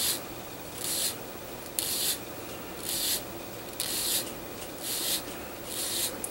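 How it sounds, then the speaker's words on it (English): A hand file rasps across a resin model kit part in single-direction strokes, about seven evenly spaced scraping passes with short pauses between them, close and fairly quiet. "I like to use my file, and what I do is I just sand it in one direction."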